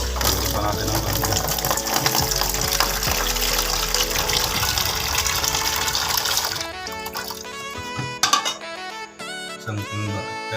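Water pours into a cooking pot for dried pancit, a loud steady gushing stream for several seconds, then clinks, knocks and splashes as it settles, up close.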